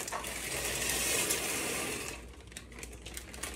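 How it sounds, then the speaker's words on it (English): Two packs of dry macaroni noodles pour into a pot of boiling water, a steady rushing hiss and rattle that fills the first two seconds, then thins to bubbling with scattered small clicks. "we're gonna pour it inside of our boiling water like this"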